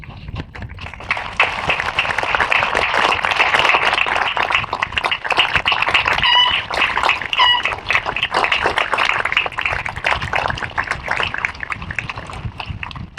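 Sustained crowd applause at a high school graduation ceremony for the Indian Lake High School class of 2025, with dense clapping holding steady for over twelve seconds and filling a large space, broken by a few whoops and cheers.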